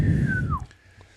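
A person whistles in imitation of a far-off elk bugle, a single rising-then-sliding tone over low room murmur, brief and close.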